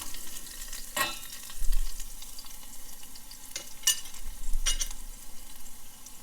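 Small onions frying in oil for Tirunelveli idi sambar, a quiet steady sizzle with a few sharp stirring scrapes of the spoon against the pan, no voices.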